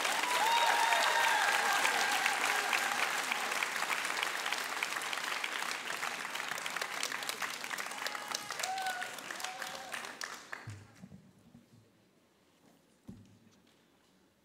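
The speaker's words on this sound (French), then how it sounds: "Je vous demande donc un tonnerre d'applaudissements pour les lycéens et les lycéennes" Audience applause at a high school eloquence contest final, a long loud burst of many hands clapping with a few cheers, then fading into scattered claps and near silence toward the end.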